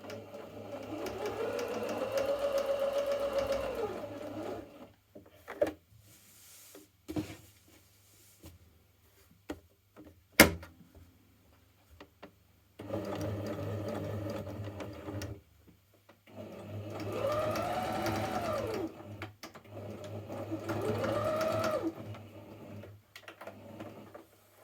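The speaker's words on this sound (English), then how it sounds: "I am aware that I'm stitching on the right side or the front side of the fabric." A sewing machine stitches a T-shirt tote bag in several bursts of rapid, steady needle chatter, separated by quiet pauses with small handling clicks and one sharp knock.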